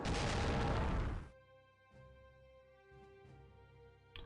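Artillery fire against a battleship in the World War I strategy game Strategic Command WWI opens with a loud, dense roaring blast lasting about a second, followed by a low rumbling tail with a few faint pops.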